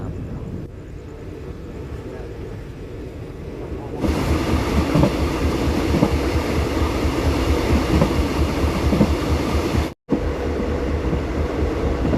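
Thai passenger train 135 runs on the rails near Ayutthaya with a steady rumble that grows louder and busier partway through. Faint rhythmic clacking sits under the roar, and there is a brief cut before the rumble resumes.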